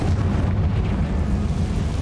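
A Confringo explosion spell blasts in Hogwarts Legacy, a loud, steady booming rumble that holds for about two seconds with no voice over it.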